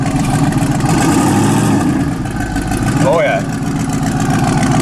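A junkyard-sourced twin-turbo RAM truck fitted with a high-stall torque converter idles with a loud, steady rumble, while someone speaks briefly over it.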